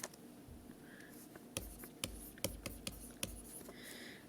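Pen strokes and taps of writing out chemistry notes on acid-base titration, a quiet series of scratchy ticks and knocks at close range, with no talking.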